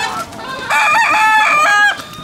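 A rooster crows once, close and loud, a strained, rising call lasting about a second, at a market.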